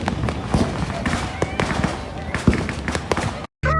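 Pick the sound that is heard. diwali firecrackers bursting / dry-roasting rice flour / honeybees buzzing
diwali firecrackers bursting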